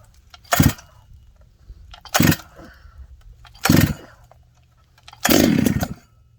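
A Stihl MS 880 chainsaw engine is pulled four times, each giving a short loud sputtering burst, the last catching briefly and running a little longer.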